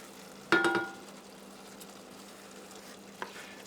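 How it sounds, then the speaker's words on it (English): Banana sauce hits a hot pan in a short loud sizzle that quickly fades to a low steady frying hiss, with a faint clink of utensils near the end. "now let's add the banana sauce"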